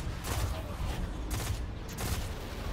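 Rapid gunfire from a weapon in Destiny 2 keeps up dense, loud bursts of shots over a constant game background.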